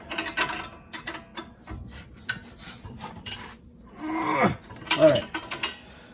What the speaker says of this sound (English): Just hold that inside bolt steady with that hex and then tighten her down.